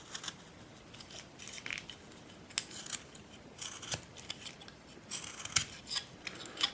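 A knife carves wood on a small pilgrim figure, producing irregular close scraping and snipping cuts in quick bursts, some sharper clicks among softer rasping strokes, with no talking.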